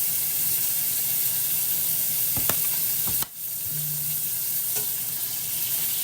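Tomatoes frying in freshly added cooking oil, a continuous loud hissing sizzle with a couple of brief knocks from stirring and a momentary dip midway, close up with no speech.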